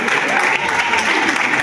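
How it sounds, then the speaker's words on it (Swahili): A classroom audience at St. Georges breaks into lively applause, a dense, close burst of clapping filling the whole moment, with voices faintly mixed in. "Makofi kwake."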